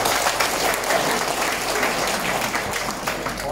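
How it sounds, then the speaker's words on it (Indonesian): An audience applauds at a community outreach meeting attended by the West Jakarta mayor, with dense, sustained clapping from a crowd filling the room for a few seconds. "Kita berikan aplaus lagi sekali."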